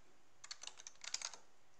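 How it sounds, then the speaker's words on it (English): Computer keyboard typing into a search window, a quick burst of about a dozen faint, light key clicks lasting roughly a second, surrounded by near silence. "So we can type this in the search window up here."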